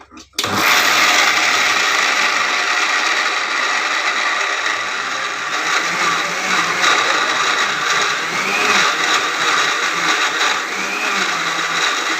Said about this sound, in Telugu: మక్కలను మిక్సీ పట్టుకోవాలి మెత్తగా